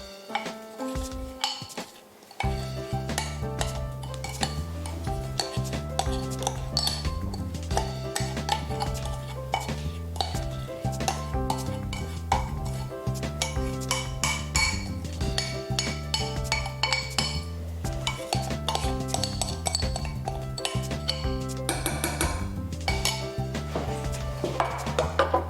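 A utensil clinks and scrapes steadily against a metal saucepan as a blended speculoos base is stirred, with music playing throughout.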